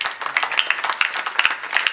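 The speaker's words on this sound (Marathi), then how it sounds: "एकदा टाळ्या वाजवा त्यांच्याकरता." An audience at a kirtan gathering claps for a singer, a brief scatter of many overlapping hand claps, fairly close and moderately loud.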